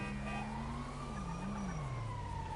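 A police siren in the video game GTA V wails in a slow rising and falling sweep, fairly close and steady, alone with a faint engine-like rumble beneath.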